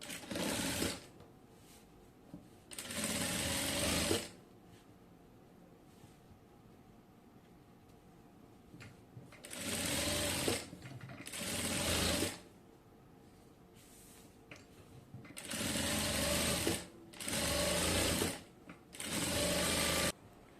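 A sewing machine stitches a salwar in several loud bursts of running stitches, separated by quiet pauses while the fabric is turned, with no voices.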